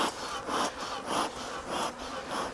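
Honey bees buzz in a dense, steady drone as a spring hive is smoked before splitting, the swarm sound swelling and easing in regular pulses about every half second, close and fairly loud.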